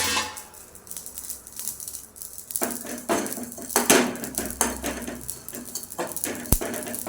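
Cinnamon and fennel roasting lightly in a pan, with steady scraping and clinking of a utensil against the metal, growing busier with sharper knocks partway through.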